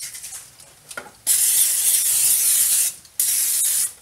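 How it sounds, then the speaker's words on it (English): Two long, loud hissing bursts of cooking oil spray onto a pan, the first about one and a half seconds, the second shorter after a brief pause. "I usually use oil, but I thought I would use the spray today"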